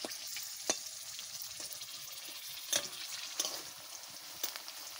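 Potato pieces fry lightly in hot mustard oil in a pan, a steady close sizzle with a few sharp pops and stirring clatters, no talking.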